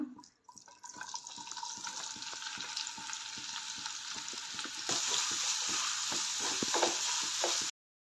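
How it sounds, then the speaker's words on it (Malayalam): Two cups of onions sautéing in coconut oil in a pan, a steady close sizzle with the scrape of a spoon stirring throughout, the frying growing brighter and louder partway through before stopping abruptly. "2 കപ്പ് സവാള ഇതിലേക്ക് ചേർത്ത് കൊടുത്ത് നല്ലപോലെ വഴറ്റിയെടുക്കണം."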